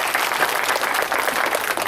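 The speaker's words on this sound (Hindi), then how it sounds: "आप इसके स्वागत में जोरदार तालियां बजाएं" A crowd applauding at a community gathering in Rajsamand, Rajasthan, dense sustained clapping from many people, loud and even with no voices over it.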